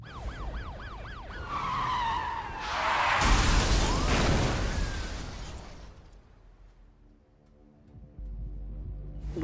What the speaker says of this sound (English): the racer known as Zephyr has just been involved in a horrific high-speed collision with local police units